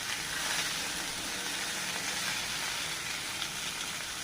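Mrigal fish frying in hot oil gives a steady, dense sizzle that holds even and loud throughout, with no talking.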